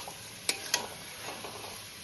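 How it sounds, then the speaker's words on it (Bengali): Fried potato, pumpkin and pointed gourd get stirred in a spiced pan, a soft steady sizzle with two sharp scraping knocks near the start, fairly faint and close. "পরে ভালোভাবে নেড়ে ছেড়ে নেব যাতে মশলাটি পুরো মিশে যায়"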